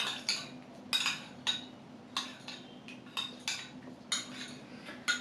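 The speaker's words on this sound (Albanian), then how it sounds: "Përzijim pak që të shkrijë kripa" Cutlery clinks repeatedly against a bowl while a chicken fillet and avocado salad is stirred with salt, a steady series of close, bright metallic taps and scrapes at irregular intervals.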